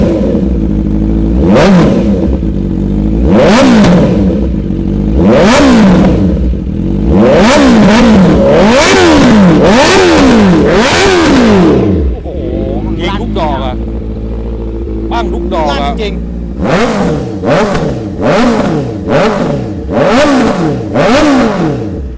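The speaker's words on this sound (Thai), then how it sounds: "ลั่นเว้ยแสดงว่าท่อมันได้สูตร" A Honda CB650 motorcycle with an aftermarket exhaust revs up close and loud in repeated rising and falling bursts, then idles briefly before revving again while people talk over it.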